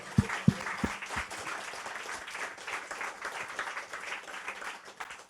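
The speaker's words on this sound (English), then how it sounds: "Let's give them a round of applause." A live audience gives a round of applause at an artist and promoter talk, a dense wash of clapping with a few sharp nearby claps standing out at the start, steady to the end.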